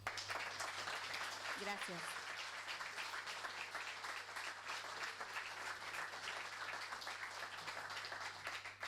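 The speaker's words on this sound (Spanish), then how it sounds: "permítanme, les damos un aplauso" An audience at a memorial tribute to Zelmar Michelini and other victims of Plan Condor claps in sustained, even applause. One person briefly speaks a single word over it.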